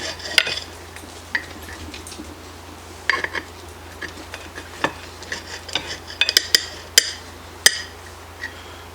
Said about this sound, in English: I'm just going to slice this up a little bit